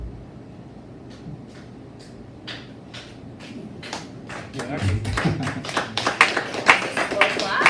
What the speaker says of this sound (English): That was a slow clap.